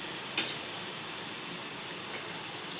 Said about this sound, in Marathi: पेस्ट मस्त भरपूर वेळ चांगलं तेल सुटेपर्यंत फ्राय करायची आपल्याला